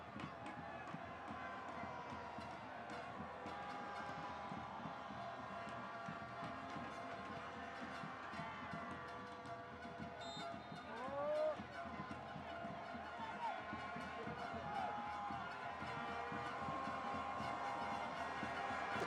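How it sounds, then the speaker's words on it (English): Football stadium crowd at a Mauritius v Mozambique World Cup qualifier, a broad, steady roar of voices swelling briefly, heard in the distance under continuous commentary. "The crowd just raising their voices"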